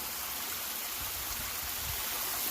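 A shallow creek trickles and rushes along a dried-up riverbank, a steady dense wash of water noise with faint low bumps, close and continuous with no speech.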